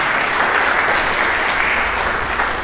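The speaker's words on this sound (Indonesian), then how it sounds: "Mari kita berikan tepuk tangan yang meriah bagi Yesus." A church congregation claps loudly and continuously in a brief, full burst of applause during a sermon, with no voices standing out.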